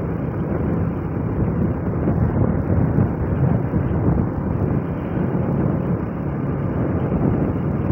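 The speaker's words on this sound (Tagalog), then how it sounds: "Lakas ng hangin." Strong wind buffets a microphone during a motorcycle ride, a constant loud rushing roar with no clear breaks.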